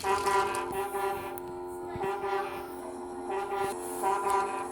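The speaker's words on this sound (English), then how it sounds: "That foghorn is so loud it rattles my dome." A deep, loud horn blares in long sustained blasts, swelling and fading repeatedly over a continuous rumble.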